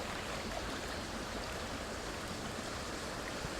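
Streamy river water on a trout fishing day in late season, flowing as a steady, close broadband rush that never lets up, with no voices.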